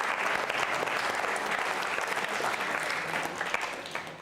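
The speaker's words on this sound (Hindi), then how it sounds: "तालियां बजाइए आप सभी के लिए।" A school quiz-show audience applauds loudly and steadily, dense clapping sustained for about four seconds before easing slightly at the end.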